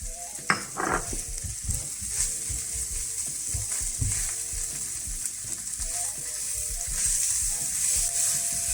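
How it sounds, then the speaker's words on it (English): Chili sautés in a roast pork and vegetable stir fry, with a loud continuous sizzle and clattering, scraping stirring strokes against the pan close up, and no one talking. "Okay, we're gonna add our chili in here."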